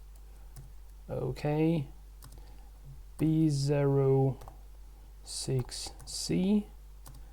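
A computer keyboard is tapped in light, sparse clicks while machine code bytes are entered, faint and close, mostly under a voice reading out values.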